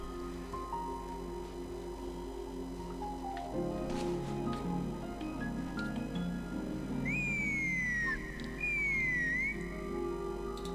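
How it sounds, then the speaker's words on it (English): Faint, thin whistled tones from characters in the game Genshin Impact glide and slide in short phrases over a soft, droning background with light clicks and scattered noises. "They're whistling."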